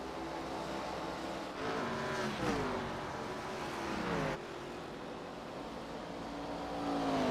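Race cars roar around a dirt track in an Iowa scrambler series, engines rising and falling in pitch as they pass and rev, loud and continuous with no speech.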